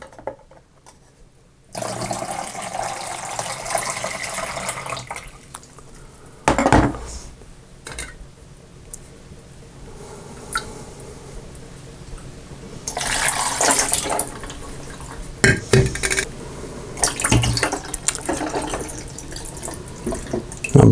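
Tap water running into and rinsing a black-and-white film developing tank during a wash cycle, intermittent splashing and gushing in bursts with brief pauses and light clunks of handling, close by.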